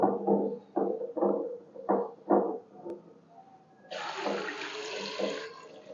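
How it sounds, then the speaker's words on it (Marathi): Water poured into a pressure cooker holding raw peanuts in their shells, starting with several separate gulping splashes, then a steady louder hissing pour for the final couple of seconds, close by with no talk. "मी फक्त शेंगा पुडतील एवढं पाणी घातलेले"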